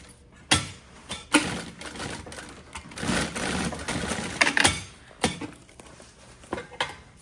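A sewing machine stitches neon bias binding in bursts of rapid mechanical whirring, separated by clicks and knocks of handling and short pauses. The sound is close and moderately loud, with no talking.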